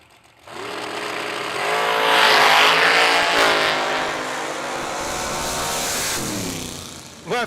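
Drag racing door cars at a strip launch with a loud engine roar that builds and holds steady for several seconds, then a brief rev at the end; close and dominant with no talk over it.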